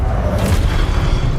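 A Confringo spell bursts in Hogwarts Legacy with a loud, low, rumbling boom and a brief whoosh that fill the short moment.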